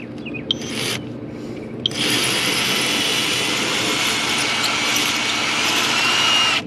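A power drill bores into a wall, widening the hole for a Della mini split installation, with a couple of short bursts followed by a loud, sustained whirring grind.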